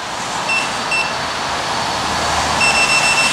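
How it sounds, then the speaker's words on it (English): Short high electronic warning beeps from a 134V electric unicycle sound in a few separate bursts over a steady rushing noise, like motion or wind, with no one talking. "first I have those little bit of beeps"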